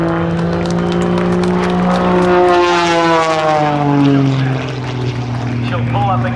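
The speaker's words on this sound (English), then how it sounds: "She continues to roll the airplane to the left as the propeller, that MT propeller, allows her to back the airplane up to her own smoke." A loud propeller aerobatic airplane with an MT propeller hauls through a torque roll at an airshow, its engine drone sliding down in pitch as the plane passes near.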